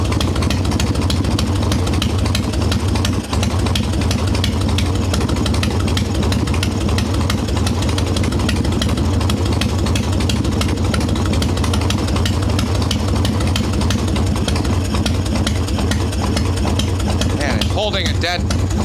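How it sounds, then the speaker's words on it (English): An Evo Softail Harley-Davidson motorcycle idles steadily and close by after carburetor tuning, a continuous loud rumble with even firing pulses that lasts throughout, ending with a faint higher-pitched sound. "Holding a dead quiet idle."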